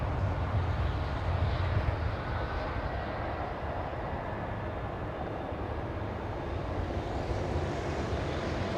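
An American Airlines airliner at LAX airport gives off a broad, steady engine roar, loud and continuous with a faint rising whine, heard from a distance without voices.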